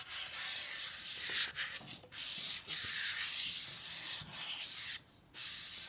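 Sandpaper rubbing back and forth over scooter handlebars, a steady series of close, loud abrasive strokes with short pauses between them.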